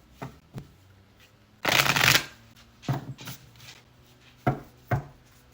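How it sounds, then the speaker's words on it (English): Tarot cards being shuffled close by, a loud riffle burst in the middle set among several shorter taps and slides of the deck, in a quiet room with no talking. "we're going to pull some more tarot"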